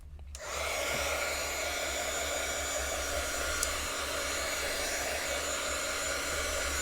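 A hair dryer blows steadily on acrylic paint on an art journal page, a constant close whirring hum that starts abruptly and runs unbroken, with no talking.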